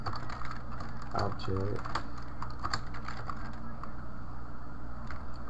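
Rapid clicks of a computer keyboard as someone types, irregular close keystrokes under a voice speaking.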